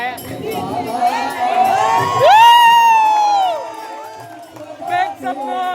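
Crowd at an outdoor Dashavatar folk theatre performance whooping and cheering, with high excited shouts rising in a loud swell and then settling, steady babble underneath.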